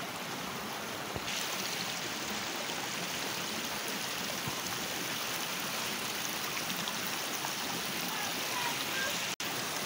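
Running water flowing steadily through a village in Santa María Temascalapa, Hidalgo, Mexico, a constant soft hiss and gurgle of moderate level, unbroken throughout apart from a tiny click near the end.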